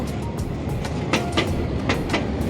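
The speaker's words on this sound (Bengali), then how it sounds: "আর এই এখানকার মেট্রো বেরিয়ে গেল।" A metro train rumbles past on the Ponte Infante bridge in Porto, Portugal, with a steady rolling roar and rhythmic clacking of wheels over joints, loud and close throughout.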